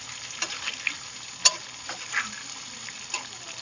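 Sweet potato pieces fry in a pan as they are stirred, giving a faint, steady sizzle with soft scraping strokes and an occasional sharper clink.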